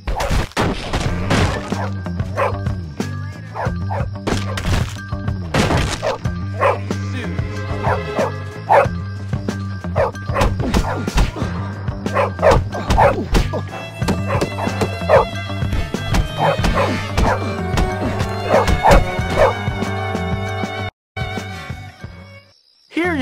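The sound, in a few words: dog barking in the video game Bully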